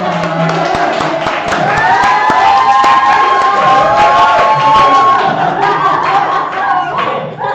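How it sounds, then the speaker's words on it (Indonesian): Classroom training session audience responding together, a loud close wash of applause and group voices with cheering and chatter overlapping, sustained across the whole stretch. "Oh, tepuk tangan."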